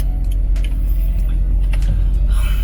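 BMW 528i E39 sedan heard from inside the cabin while driving, a loud steady low road and engine rumble with light rattling and jingling over it.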